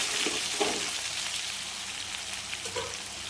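Boiled potatoes dropped into hot oil for tempering, giving a quiet, steady sizzle with a few soft thumps and crackles near the start and again near the end.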